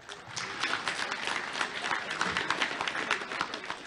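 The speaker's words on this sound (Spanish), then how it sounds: "Un aplauso, hermanos." Audience applause at a Bolivian school inauguration event, a dense, sustained wash of many hands clapping at moderate distance, steady throughout with no voices over it.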